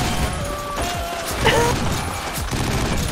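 Dual guns firing in 50 Cent: Blood on the Sand, a dense run of overlapping shots and clatter under game audio, with someone talking quietly over it.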